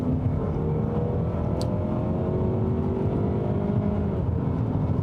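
A 2020 Mazda CX-30 crossover with a 186-horsepower engine hums as it accelerates, a steady close-up drone with slowly rising tone heard from inside the cabin, with no talk.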